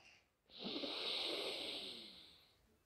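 Chandra Bhedana pranayama, yogic breathing through one nostril: a single long, steady airy hiss of breath drawn through the nose, rising sharply and holding for about two seconds before slowly fading, close and alone.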